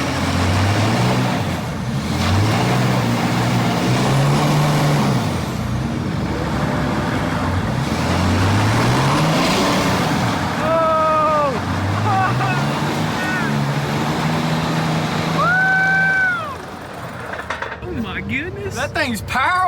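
Tracked skid steer straining as it drags a wrecked Lamborghini Urus, a heavy diesel drone with rising and falling engine load throughout, people talking over it nearby.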